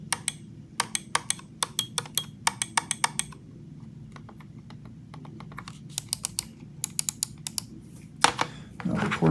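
Logitech G Pro Superlight 2 wireless gaming mouse buttons clicking in quick clustered bursts, sharp and close, with pauses between groups and a faint room hum underneath.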